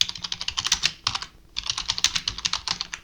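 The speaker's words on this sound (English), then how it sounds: "type in your message title" Rapid typing on a computer keyboard, a close run of crisp key clicks that pauses briefly near the middle before resuming at the same steady pace, with no voices.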